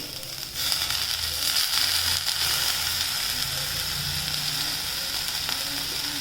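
Ginger and garlic fry in a pan, a steady, dense sizzle that holds evenly throughout at close range with no voices.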